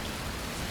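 Steady, dense patter of rain in a driving video game, a soft continuous wash of drops with no breaks through the brief moment.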